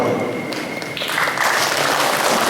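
Audience at a Philippine Marine batch 1977 grand reunion gathering breaking into sustained applause, a dense wash of clapping that swells louder after the first second and holds steady throughout.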